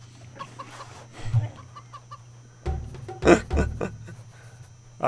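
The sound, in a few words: chicken-like creature clucking in the video game CHKN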